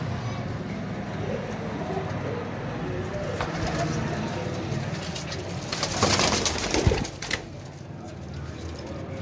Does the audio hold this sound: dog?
no